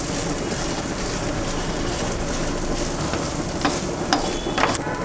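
Moringa leaves stirred and roasted in a bronze kadai give a steady close sizzle with a soft crackle, and a few sharper scrapes and clinks near the end.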